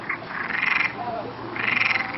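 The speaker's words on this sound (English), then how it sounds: "There's a frog pond here. I don't know if you can hear them, they're all talking to each other." Two rattling croaking bursts from frogs in a pond at a botanical garden in Madeira rise and fade, a pulsing chorus with a short lull between.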